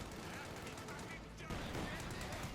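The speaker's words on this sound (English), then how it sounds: "Rangers charging in there, gunning down the mortar crew." Rangers' rifle and machine-gun fire in Company of Heroes 2, quiet and distant crackling bursts running continuously under a commentator's steady talk, with a denser volley near the end.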